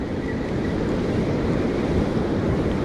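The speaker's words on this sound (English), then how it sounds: "there's some waves that are crashing close by" Ocean surf breaks near an Oregon beach during surf perch fishing, a loud, steady rushing wash of waves mixed with wind buffeting the microphone, with no talking.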